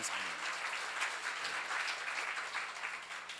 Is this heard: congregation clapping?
yes